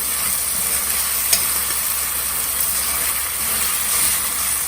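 Multigrain khichdi stirred in a pot over a slow flame, a steady close hiss and faint scraping with one brief clink, continuous and fairly loud, without speech.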